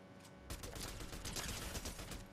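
Rapid gunfire from a Fortnite ranked match erupts after a brief quiet start, with dense overlapping shots and bursts continuing loudly throughout without speech.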